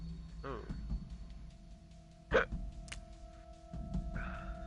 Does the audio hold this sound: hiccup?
yes